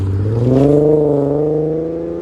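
A 2014 Infiniti Q50 with a 3.7-liter V6 and dual Flowmaster Flow FX exhaust revs once, its deep rasping note climbing quickly and then holding a loud, steady drone up close.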